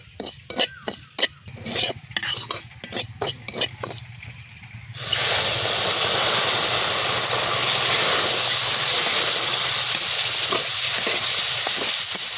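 Water poured into dry-roasted semolina for a sweet rasmalai-style dessert, preceded by a run of close clattering stirs, then a loud, steady, close sizzling hiss that continues without a break to the end.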